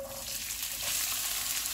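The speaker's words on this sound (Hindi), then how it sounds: "इनको नरम होने तक फ्राई करेंगे।" Chopped onions frying in hot oil with cumin seeds for egg bhurji, a steady close hiss of sizzling that swells slightly partway through, with no talking.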